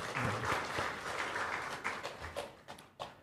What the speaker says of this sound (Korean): 하나님께 영광의 박수 함께 올려드리겠습니다.